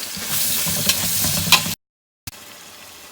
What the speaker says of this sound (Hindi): नमक ऐड और इसको अच्छे से भून लेंगे